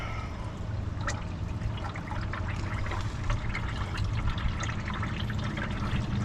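Water drains out of a flooded Camaro engine in a steady, close trickling and splashing stream that continues with no break.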